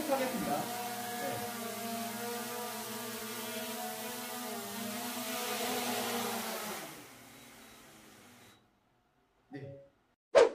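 A small camera drone hovers indoors and comes in to land, its high whining buzz holding steady then fading out to silence, followed by brief faint knocks.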